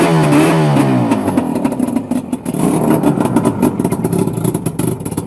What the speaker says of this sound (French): Un moteur, il faut que ça tourne.